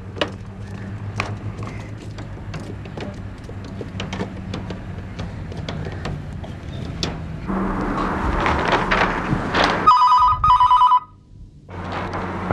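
A telephone rings during a call to Dubai, a short electronic ring pattern emerging near the end after a stretch of indoor shuffling and movement, followed by a sudden quiet.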